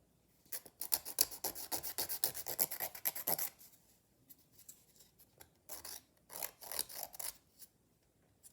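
Fingernails filed into an oval shape with a nail file, quick rhythmic rasping strokes close up, one run of about three seconds, a pause, then further bursts of filing, with no talk.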